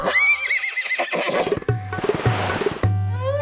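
A horse neighs and whinnies loudly up close, with long rising and falling calls repeating across the stretch, a few hoof clops beneath, and no talking.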